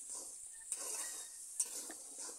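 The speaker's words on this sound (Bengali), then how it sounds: "এবার সামান্য পরিমাণে জল দিয়ে এই সব মশলাগুলো কিছুক্ষণ আমি কষিয়ে নেব" Spices with a little water being sautéed and stirred in a pan for a vegetarian pumpkin-stalk chorchori, a soft continuous sizzle with a couple of sharp utensil clinks against the pan, fairly quiet and with no voices.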